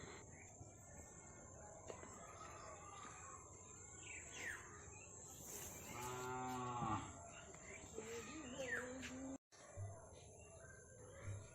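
Cattle moo outdoors beside a rural Assamese home: one long, loud lowing call in the middle of the clip, with softer calls around it, over a steady bed of crickets and occasional birds.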